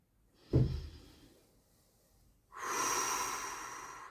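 A slow, deep breath during a calming self-care exercise: a sharp inhale followed by a fading exhale, a pause, then a long steady breath out, close and alone.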